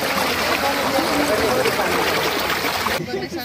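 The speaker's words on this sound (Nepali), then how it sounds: "यो इन्टेकमा ओभरफ्लो भइसकेको छ" Water rushes and splashes continuously over a mini hydropower intake, a loud, dense, steady flow close by, cutting off abruptly near the end.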